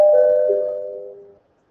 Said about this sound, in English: Okay, sorry about the bell.